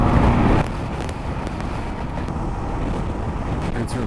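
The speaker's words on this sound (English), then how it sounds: "You probably can't hear me. It's so windy." Heavy, continuous wind at about 4,500 meters in Bolivia buffeting the microphone with a loud rumbling roar, strongest at the start and then settling into a steady gusty rush.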